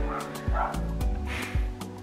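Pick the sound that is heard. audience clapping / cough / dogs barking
dogs barking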